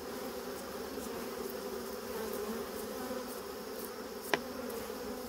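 Honeybees at a hive make a steady, dense buzzing hum that fills the whole stretch, with a brief sharp click near the end and no voices.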